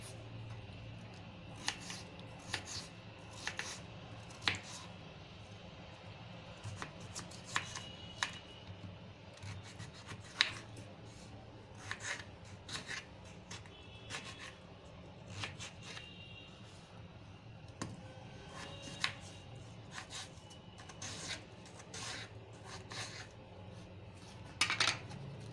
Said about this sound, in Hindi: अब हम आलू को भी काट लेंगे।